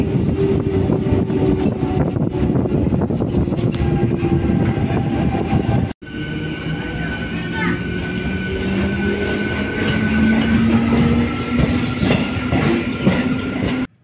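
A passenger train on the Howrah to Khirai line rolls along the tracks with a loud, continuous rumble and wheel clatter, faint squealing tones riding on top, and a brief dip partway before the roar resumes.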